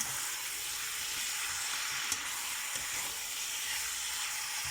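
Chicken pieces frying in a pan with hoisin sauce to come, a steady soft sizzle and hiss throughout, with a couple of faint utensil clicks, fairly quiet and with no talking.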